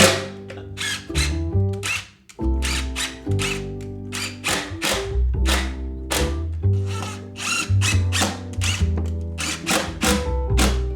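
A power drill drives a screw into a kitchen end panel in repeated short whirring bursts with brief pauses, the motor pitch rising and falling as the screw is run in, backed out and tightened, loud and close.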